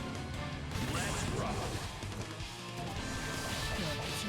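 Glass shatters in a wall break during a Guilty Gear Strive match, a loud crash with other game effects and excited commentary talking over the action.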